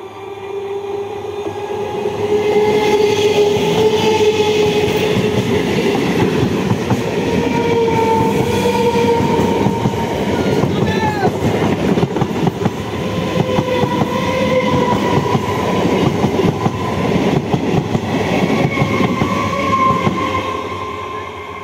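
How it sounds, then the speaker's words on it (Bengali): Teesta Torsa Express train passing close by on the Howrah–Katwa line at Balagarh station, a loud continuous rumble and clickety-clack of wagons lasting throughout, with no talk over it. "ওয়াও, চলে গেল তিস্তা তোরসা এক্সপ্রেস।"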